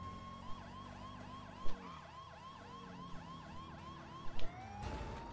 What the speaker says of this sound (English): Do you not hear the siren?